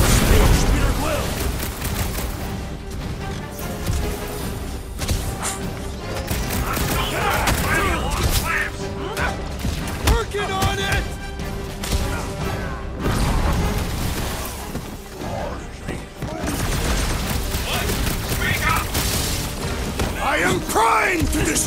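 Gunfire rattles in the game Guardians of the Galaxy as clamps are shot, with continuous booming shots and thuds under energetic character dialogue and combat effects.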